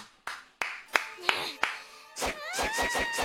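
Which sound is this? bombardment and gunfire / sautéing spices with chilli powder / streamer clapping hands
streamer clapping hands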